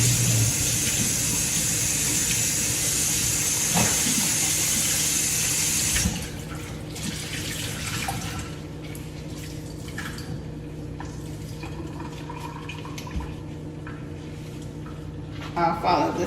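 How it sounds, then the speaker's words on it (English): A cleaning towel rinsed under a running tap while cleaning a microwave, a steady rush of faucet water that cuts off partway, followed by quieter dripping and handling sounds. "I'll rinse out the towel again."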